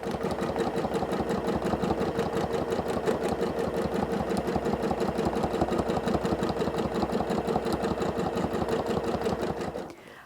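A sewing machine stitches free motion quilting in a fast, steady mechanical chatter of rapid needle strokes, close and continuous, stopping abruptly at the very end.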